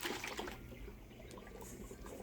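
Water swirls and bubbles quietly inside an upturned bottle tornado, a soft gurgling trickle that runs for about two seconds with no talk over it.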